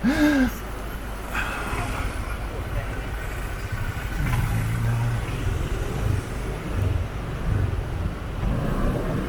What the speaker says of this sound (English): Edge through the traffic.